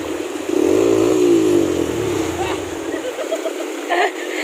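Big motorcycles rev loudly on a rough rural road to Sitio Fliko in Palimbang, Sultan Kudarat, with one close engine rising and falling over wind rumble before it fades and a voice speaks.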